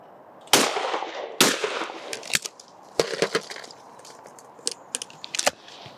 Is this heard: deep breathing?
no